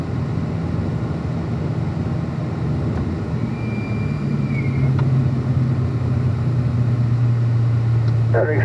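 A car accelerating along the front straight at Spring Mountain Motorsports Resort, its engine a steady, close drone that rises in pitch and grows louder toward the end.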